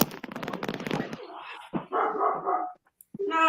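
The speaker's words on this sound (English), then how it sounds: "Got guests up at the house and he's barking at them every 5 minutes." A pet dog at a house barks at visiting guests in a burst of rapid, close barks, with a few more sharp yaps after a brief pause.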